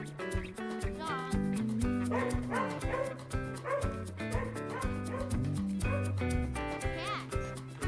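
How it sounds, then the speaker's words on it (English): A dog barks and yips in a quick, steady run of loud barks over a bright, busy children's music backing, part of a kids' animal-sounds learning song. "Dog."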